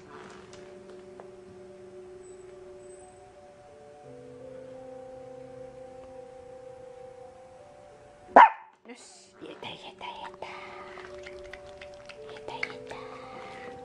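A single sharp dog bark cuts in after a stretch of soft voices, followed by a few quieter yips and more talking.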